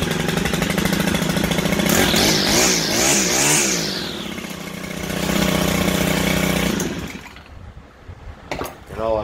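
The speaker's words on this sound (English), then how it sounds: "Now with that disconnected, it will fire right up. So anyhow, let's crank her up." Stihl string trimmer engine fires up and runs with a buzzy two-stroke whine, rising and falling through a few revs before cutting out near the end, then brief handling noises.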